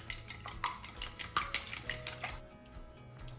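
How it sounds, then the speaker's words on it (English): Three eggs whisked in a small bowl: quick, rhythmic clinks of utensil against the bowl, close and clear, stopping abruptly near the end. "So I have 3 eggs and I'll whisk"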